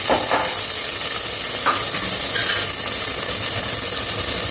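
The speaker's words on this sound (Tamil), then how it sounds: "நல்ல வெங்காயம் வதங்கட்டும்" Onions sauté in a pan for a mushroom biryani, giving a steady, close sizzle with a few faint scrapes of stirring throughout.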